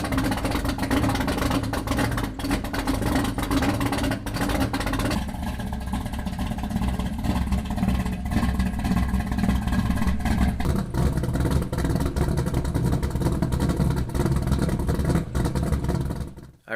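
A car exhaust heard in turns with no muffler, a Flowmaster muffler and a Dynomax muffler, a loud continuous engine drone and rumble whose tone shifts between sections, without any talking.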